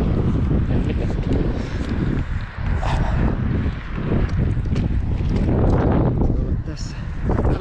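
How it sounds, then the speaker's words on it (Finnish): Gusty wind blows hard around a birch tree being climbed and felled beside a footpath, a loud, continuous rushing with fluctuating bursts while someone speaks over it. "Tuuli painaa ilkeästi."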